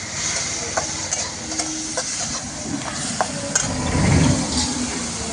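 Raw moth beans stirred into a sizzling onion-garlic masala in a pan in a hut kitchen, a spoon scraping and clinking against the metal over continuous frying hiss, close and fairly loud.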